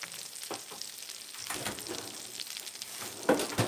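Salmon fries in a pan with a steady, bright sizzle and crackle, close and moderately loud, with occasional clatter of kitchen items being put away.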